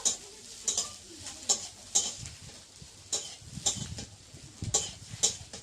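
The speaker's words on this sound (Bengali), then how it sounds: "দিয়ে আমি আলুর সাথে একসাথে ভাজা করে নেব। একটু তেলে নেড়ে নেব।" Potatoes frying in oil in a wok are stirred with repeated scraping strokes at an irregular rhythm over a soft continuous sizzle, close up, with no talking.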